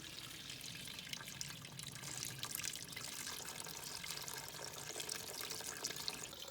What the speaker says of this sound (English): We direct the water into a bucket.